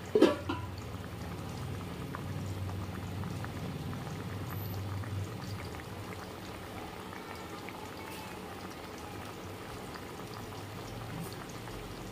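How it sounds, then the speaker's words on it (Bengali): Thin rohu fish curry broth with tomato boiling in a covered pot, a steady close bubbling simmer that continues evenly throughout after a brief knock at the start, with no talking. "ফুটতে শুরু করেছে।"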